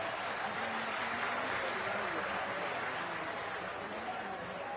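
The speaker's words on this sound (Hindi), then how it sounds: "सो प्लीज ढेर सारी तालियां फॉर हमारे शास्त्री जी के लिए" Steady audience applause at a large public gathering at Bageshwar Dham, a continuous wash of clapping from a crowd with a faint murmur of voices underneath, holding level throughout.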